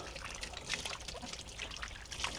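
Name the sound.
water trickling while washing freshly harvested yuca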